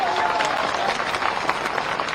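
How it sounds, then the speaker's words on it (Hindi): Crowd applauding at a BJP Jan Ashirwad Yatra political rally in Dimni, Morena district, a dense, steady wash of clapping filling the whole short stretch with no clear voices on top. "अगर मिला है तो तालियों की गड़गड़ाहट।"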